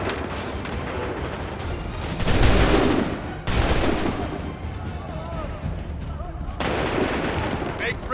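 Musket volleys crash out in the Assassin's Creed 3 video game. Loud bursts of gunfire layer over battlefield din, with heavy surges near the two-second and seven-second marks and commanding voices shouting between shots.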